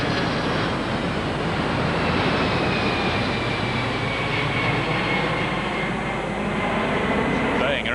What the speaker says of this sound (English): the first ever wide-bodied airliner weighing nearly 300 tons took off